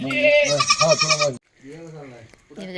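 A goat bleats loudly and close by in a long wavering cry, then a shorter second bleat after a brief pause.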